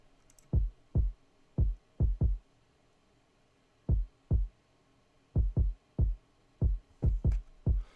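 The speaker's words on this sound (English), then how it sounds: "Next we got the kick pattern, which sounds like this." A sparse, bouncy kick drum pattern, deep punchy thumps in uneven clusters of two and three with short gaps, clean and alone.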